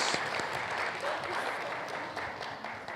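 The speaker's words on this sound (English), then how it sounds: "Let's clap for them, please." An audience at an education forum applauds a panel, a steady, fairly soft wash of clapping lasting the whole stretch with a faint voice underneath.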